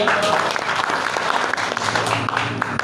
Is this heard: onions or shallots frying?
no